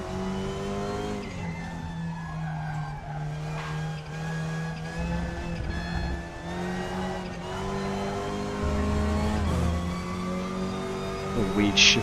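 A TCR touring car engine in the racing video game RaceRoom drones and climbs steadily, with brief drops and rises in pitch as gears shift, tires squealing faintly at times.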